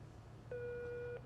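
A telephone busy signal gives one steady electronic tone lasting under a second, alone over a faint low hum.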